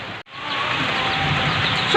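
Heavy rain falls in a steady, dense hiss that briefly drops out near the start, then pours on evenly and loudly with no voices.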